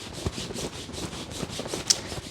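A cloth rubs rhythmically across a leather shoe held between the thighs, a soft repeated swishing buffing at close range, with one brief sharp scuff near the end.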